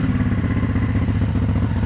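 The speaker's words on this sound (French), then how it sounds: "On va démarrer le moteur tout de suite." A Ducati Hypermotard SP motorcycle engine running after starting, a loud close, steady lumpy idle throb with mechanical clatter.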